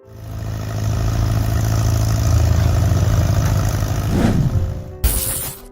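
An Allis-Chalmers WD45 tractor engine runs with a steady low mechanical rumble and clatter, loud and close, then shifts abruptly into a brighter burst of noise near the end.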